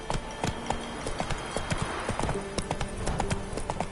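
A horse's hooves trot in The Witcher 3, a brisk, steady clip-clop close by with layered overlapping hoofbeats.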